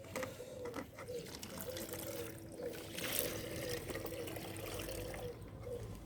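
Water pours and trickles steadily into small seedling pots, a continuous faint splashing close by with a few soft knocks.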